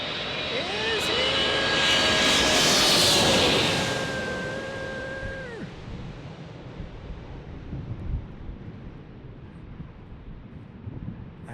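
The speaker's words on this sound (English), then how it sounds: "Our British Airways 777 is here." British Airways Boeing 777 landing at San Diego International Airport, its engine roar swelling loudly as it passes close overhead, then fading into a long, gusty wind-buffeted tail.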